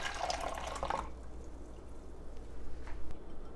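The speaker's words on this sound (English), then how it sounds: "And to our container, we're going to go ahead and pop our water phase." The water phase of a homemade lotion is poured into a container, a brief liquid splash and trickle for about a second, followed by quiet room tone with a few faint drips and taps.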